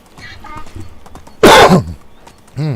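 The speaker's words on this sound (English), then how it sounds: "I try not to cough in your ear." A single loud, harsh cough bursts out close to the microphone during a live Medieval Dynasty gaming stream, preceded by quiet game sounds and followed by a short voiced sound.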